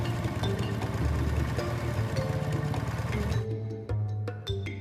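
A motorbike converted into a village bike taxi with a platform built on the back idles with a steady, low rumble that continues throughout at a moderate level.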